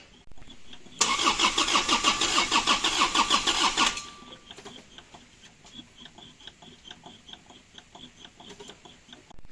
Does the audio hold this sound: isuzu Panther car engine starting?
yes